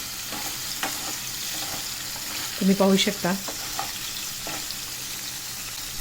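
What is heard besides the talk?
paneer frying in hot oil in a kadhai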